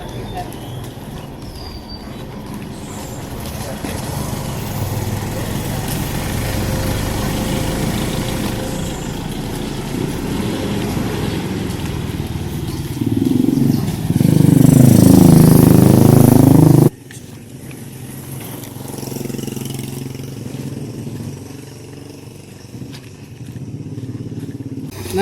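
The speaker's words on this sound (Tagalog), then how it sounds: "Maraming dumadaan na sasakyan" Steady traffic flow on a main road near Pacwalk, with motorcycles and other vehicles passing close by, rising to a loud engine surge before dropping back to a quieter hum, with voices talking now and then.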